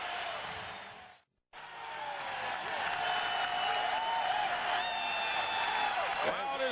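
The Forum crowd at a 1987 NBA Finals Lakers–Celtics game roars and cheers after a big play, a sustained distant wall of noise broken by a brief dropout, with commentators talking over it.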